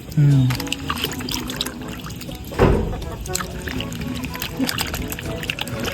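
A dorado fish head and tail are rinsed under running water, a close, steady splash and trickle with a brief louder gush partway through, and a voice speaks over it.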